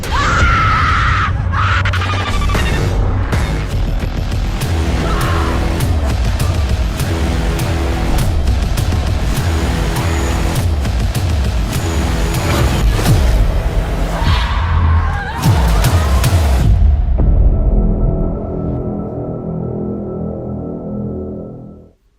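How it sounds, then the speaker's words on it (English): Trailer for the horror film The Butchering: loud, dense music with screams, heavy thuds and booming hits building in intensity, then a sudden cut to a quieter sustained tone that fades out. "Alright, that is a trailer to The Butchering."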